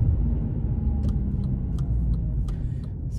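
A white Honda Civic Type R Euro 2.0 with a Seeker muffler rumbles with a low, steady engine drone from inside the car, with a few faint clicks and ticks over the top.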